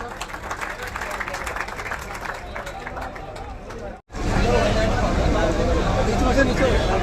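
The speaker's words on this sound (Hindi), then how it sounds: "जोरदार तालियों के साथ उनका स्वागत करें।" Large crowd at an election rally bursting into loud applause, steady clapping mixed with murmuring voices, a brief drop to near silence midway, then a stronger, fuller wave of clapping and cheering.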